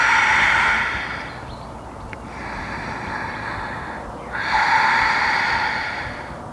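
Slow, deep breaths during a vinyasa yoga flow, a long airy exhale followed by a fuller inhale, close and steady with no talking.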